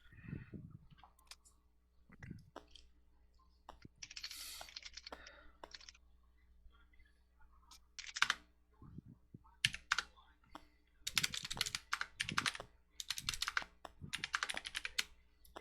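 Fingers type on a computer keyboard in scattered, uneven bursts of clicking, close and fairly quiet, with a few soft knocks and gaps between bursts and no talk.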